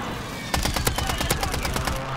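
Rapid automatic gunfire in Warzone aimed at a UAV, a run of evenly spaced, loud, sharp shots that starts abruptly and continues to the end.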